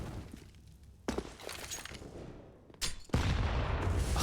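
Grenade blasts in the Counter-Strike game on the Dust2 map, with a sharp loud explosion around the one-second mark and a heavier double burst near three seconds, followed by ongoing crackling gunfire and debris noise.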